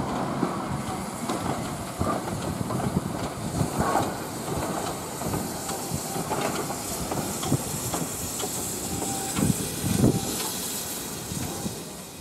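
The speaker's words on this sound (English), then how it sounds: "The locomotive now departs with its train bound for Rothley." A BR steam locomotive with a BR3-type tender pulls away with its train bound for Rothley, a steady hiss of steam and rolling carriage noise building with rhythmic chuffs and clanks, fairly close and continuous.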